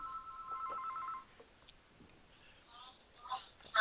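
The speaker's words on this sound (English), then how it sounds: "The house phone is incredibly loud for some reason." A house phone rings loudly in a quiet room, a short burst of electronic trilling up front, then more trill fragments and clicks toward the end.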